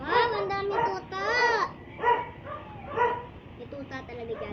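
A litter of puppies yipping and barking in quick, high-pitched bursts close by, with a few whimpery yelps, mixed with a voice talking nearby.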